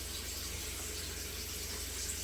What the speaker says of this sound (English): Filling the sink with cold water.